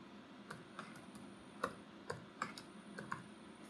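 A few soft, irregular key clicks from entering a date on a computer keyboard, scattered and faint against a quiet room background with no talking.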